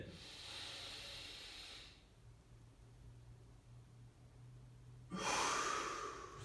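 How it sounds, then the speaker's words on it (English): A person takes a deep breath in during a core and stretching workout, a soft airy hiss of inhalation nearby, then a louder breathy rush at the end. "Sometimes it helps to squeeze when you breathe it in."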